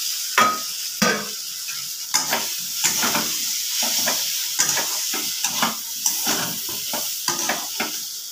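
Fried pieces of gaanthi go into a reddened, cooked spice paste in a pan, making a steady sizzle broken by repeated scraping stirs of a spoon against metal, close and with no voices.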